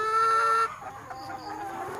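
Chickens on a Thai backyard farm plot, loud close clucking and squawking in the first moment, then quieter scattered calls from the flock with faint background noise.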